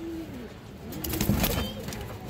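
A female Cobra-line pigeon gives soft low coos nearby, faint and murmuring, amid light background noise and a hint of a voice.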